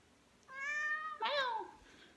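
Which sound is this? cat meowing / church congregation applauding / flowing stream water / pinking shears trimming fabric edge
cat meowing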